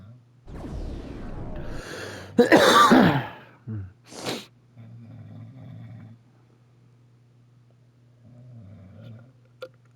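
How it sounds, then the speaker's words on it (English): A woman snoring nearby in a quiet room, a few long, rough, rattling snores with a snort and gasping breaths between them, loud and irregular, each followed by quieter wheezy breathing. "Please pardon my wife snoring in the background."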